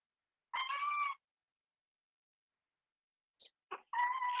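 A young kitten meows twice, close and clear: one drawn-out cry near the start, then a few faint clicks after a pause before a second meow rises at the end, with silence in between.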